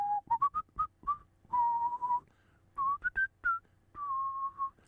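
A person whistles a loud, playful run of short rising notes followed by longer held tones, alone and close to the microphone.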